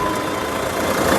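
A 2017 Jeep Compass Limited Edition engine idles steadily up close, a smooth continuous hum with no talk over it.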